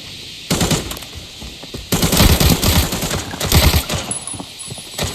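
Rapid bursts of automatic gunfire from the Arena Breakout video game, loud and close, coming in several clustered volleys with short pauses between them.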